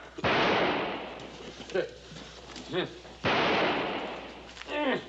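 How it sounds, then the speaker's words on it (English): Gunfire inside army barracks in a 1960s TV western comedy set at a frontier fort: two sharp, loud shots about three seconds apart, with agitated voices shouting between them. "It's Vanderbilt sitting on his top bunk and shooting up the barracks"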